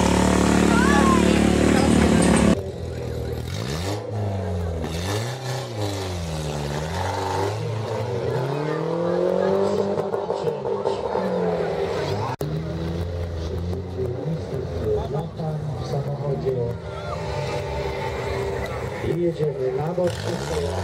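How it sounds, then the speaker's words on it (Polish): A car balancing on two wheels at an American monster truck motor show in Chrzanów, its engine rumbling and revving steadily under continuous loud announcer talk over a PA throughout. "A dos ruedas sin manos, conduciendo con un solo pie."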